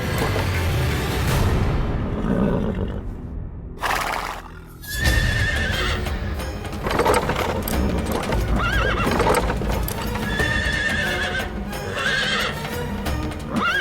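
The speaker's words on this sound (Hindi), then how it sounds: "घोड़ा आगे ही नहीं बढ़ रहा है" A horse hitched to a chariot neighs repeatedly as it refuses to move forward, with loud whinnies and clip-clopping hooves over a dense, dramatic soundtrack that continues throughout.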